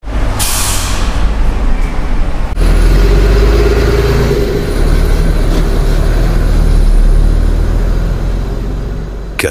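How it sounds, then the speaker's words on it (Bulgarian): A bus engine running loud and close, a steady low rumble after a brief hiss at the start, holding constant throughout. "Нека чуем какъв звук издава автобусът."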